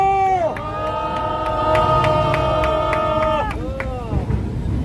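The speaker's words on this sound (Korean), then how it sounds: "여기 계신 분들의 힘찬 함성과 박수로 시작하겠습니다" A crowd gathered at an outdoor press conference opposing a trilateral alliance and joint military drills lets out a loud, sustained cheer with shouting and clapping, swelling and then cutting off after about three and a half seconds.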